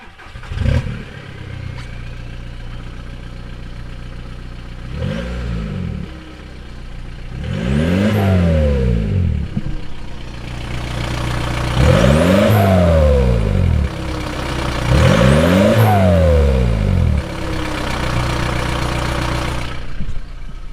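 A diesel VW Beetle with a Power Stroke diesel and turbo revs up close, three strong throttle blips rising and falling over a steady mellow idle, with a smaller rev at the start.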